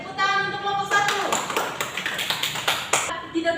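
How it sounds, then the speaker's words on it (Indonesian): A classroom of students claps for a group of classmates, a burst of quick, overlapping hand claps after a brief voice at the start. "tepuk tangan untuk kelompok"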